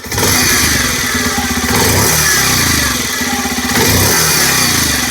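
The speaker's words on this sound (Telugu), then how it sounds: "ఒకసారి ఇంజన్ నోట్ అయితే వినండి." A Bajaj Pulsar 125cc motorcycle engine runs close by, a loud, steady idling thrum with slight pulsing swells and no voices over it.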